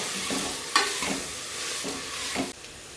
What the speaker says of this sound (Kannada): ಉಪ್ಪು ಹಾಕ್ಕೊತೀನಿ, ಇದೊಂಚೂರು ಫ್ರೈ ಆಗಲಿ ಅಷ್ಟರಲ್ಲಿ.